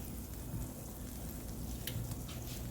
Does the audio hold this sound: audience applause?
no